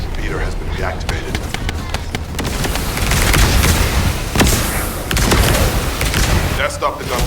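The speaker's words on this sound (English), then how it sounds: "That stopped the gunfire." Rapid bursts of video game gunfire and booms crackle through a dense, busy mix, with voices talking over the action.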